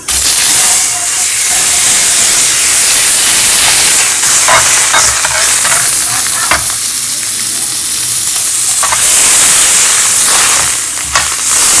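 Margarine sizzling loudly in a hot pan for Chinese fried rice, a dense continuous hiss with occasional sharper crackles and faint stirring, close and steady with no talk.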